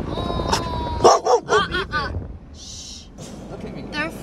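A dog barking at cows in the wilderness on the way to Yosemite, a few sharp close barks and yips mixed with excited whimpering, with people talking around it.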